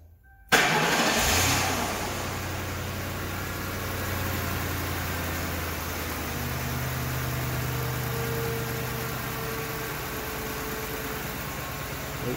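A 2006 Lincoln car engine cranks briefly and catches with a sharp start, then settles into a steady, even idle that hums on alone without talk.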